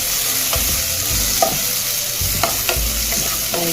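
Tomatoes sauté in a pan for a Kannur-style fish curry, a loud close sizzle with low rumbling stir scrapes and occasional crackling spikes, no talking.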